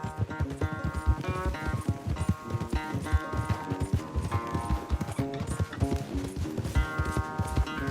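Horse hooves gallop in a race in the Red Dead Redemption 2 video game, a rapid steady clip-clop carrying through the whole stretch under a loud, dense layer of game music.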